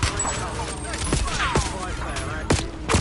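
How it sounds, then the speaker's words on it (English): Enemy precision airstrike in the Warzone resurgence game: dense, loud gunfire and sharp blasts pound continuously across the whole stretch, with heavy impacts near the start, middle and end under a busy battlefield wash. "Enemy precision airstrike."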